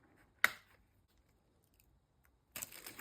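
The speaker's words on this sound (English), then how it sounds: "I'm going to cut off the end." Scissors snip through the end of a strip of tape during a papercraft pocket project, making one sharp cut near the start and a longer crinkly rustle at the end, close and quiet with no talking.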